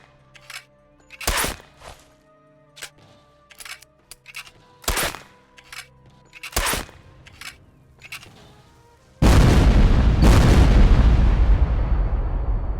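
Gunfire in Sniper Elite VR: a string of sharp, separate shots spaced irregularly over several seconds, then a sudden loud, sustained roar of a final blast that carries on to the end without any talk.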